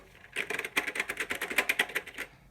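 Fingers type on a C64 Maxi computer keyboard, a quick run of clacking keystrokes in irregular rhythm, close and clear with no talk.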